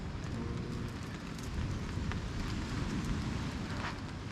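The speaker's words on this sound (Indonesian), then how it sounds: "Wah, gerimis teman-teman." Light drizzle at a beach campsite patters softly and continuously, a faint, steady hiss of small drops with a low rumble of wind or surf underneath and no voices.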